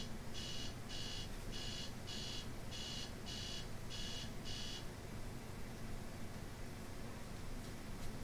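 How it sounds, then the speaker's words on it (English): A phone alarm sounds as a run of about seven rapid, evenly spaced electronic beeps, quite faint over a steady background hiss, then stops. "that's my phone making an alarm sound"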